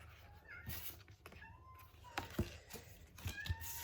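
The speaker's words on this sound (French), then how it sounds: "il y a mon chat qui veut sortir" A house cat meows repeatedly to be let outside, several rising, drawn-out cries spaced across a few seconds, close by, with scattered knocks and faint background noise.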